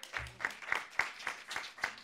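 Sparse applause from a small audience at a greenwashing quiz, with a handful of distinct claps spaced in a loose, uneven rhythm. The claps are fairly close and clear, and a brief low voice sounds near the start.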